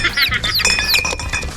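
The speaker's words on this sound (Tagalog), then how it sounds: "Marami tayong sisiw dyan guys." A cluster of chicks peeps at a campsite in Albay, a dense, continuous chorus of high chirps and squeaks, close and fairly loud, with no talking.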